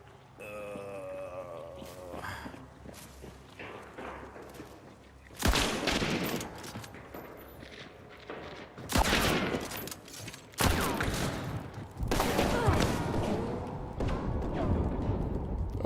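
Gunfire in the video game Hunt: Showdown 1896: after quieter moments, loud volleys of shots erupt from about five seconds on, in several heavy bursts that carry on close by.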